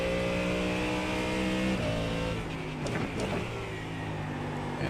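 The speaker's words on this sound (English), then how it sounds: "there's a faster class car approaching" Several iRacing GT3 cars drone along at speed as a faster class car approaches, engine notes holding steady then shifting as it passes, loud and close without voices.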